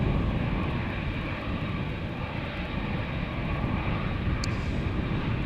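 A jet airliner departing Amsterdam Schiphol bound for Montreal, likely an airliner climbing away, produces a loud, steady broadband engine roar that fills the whole stretch, heard close and without voices.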